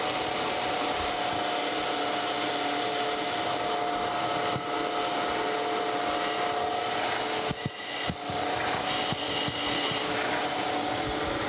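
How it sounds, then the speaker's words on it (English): A grinding wheel is redressed on a metal planer under restoration, making a continuous, even abrasive hiss and whir that holds steady at close range for the whole stretch. "I'm going to go ahead and redress this wheel."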